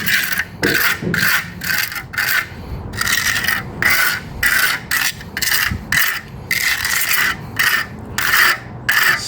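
Trowel or float working a concrete patch on a garage entry, a steady series of rhythmic scraping, rasping strokes roughly every half second, close and fairly loud with no talking.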